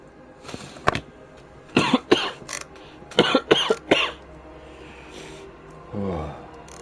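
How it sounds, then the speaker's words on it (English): A person coughs in several separate bursts, close and fairly loud, with short pauses between them and a faint background of video game ambience. "I'm going to cough"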